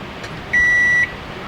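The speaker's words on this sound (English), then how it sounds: "I wasn't expecting it to be immediate beep" A van's power inverter gives a single electronic beep as it is switched on, a steady, clear tone lasting about half a second over faint background hiss.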